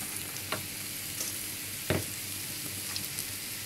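Medium-sized prawns hiss in a frying pan with a quiet, steady sizzle, broken by a few soft clicks of stirring.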